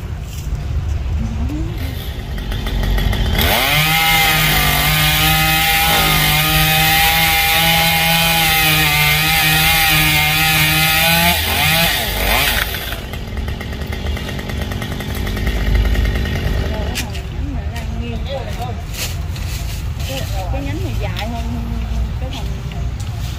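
A loud chainsaw cuts tree branches and firewood, its engine revving high and steady for several seconds, then dropping to a lower rough idle with intermittent revs. Voices talk over the machine near the end.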